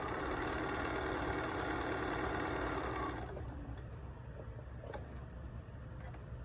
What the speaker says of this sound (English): I'm going to come over to my machine, sew a nice 1/4" seam.